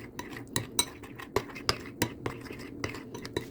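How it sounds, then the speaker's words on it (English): A spoon stirs melted chocolate chips in a bowl after microwaving, with a run of close, sharp clinks and scrapes against the bowl in an uneven rhythm and a faint whisper of background noise. "Make sure you mix it until your chips are fully dissolved or your powder is fully dissolved."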